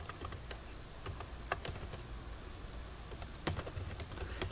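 Quiet clicking of keys on a computer keyboard comes in irregular bursts and single taps over faint background hiss, with no speech.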